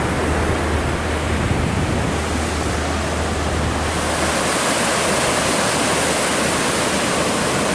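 Surf at Mooloolaba beach on a sunny day, a dense constant wash of breaking waves, loud and close, with no voices.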